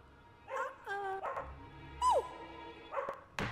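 A dog barks and yips in the Lego Harry Potter video game, a few short sharp barks and whimpers spread over a few seconds amid game sounds, with a voice briefly audible.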